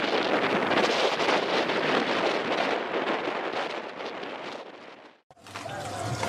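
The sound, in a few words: strong wind at anchor on a sailboat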